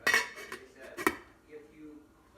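A lid clatters onto a metal cooking pot of simmering food, giving two or three sharp clinks followed by a faint settling rattle in a quiet kitchen.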